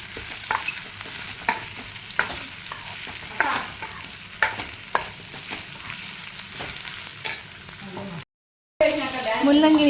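Grated radish mixed with tamarind fries in a pan for radish chutney, a soft steady sizzle broken by regular scraping strokes of a spoon, then a brief silence before a voice speaks at the end.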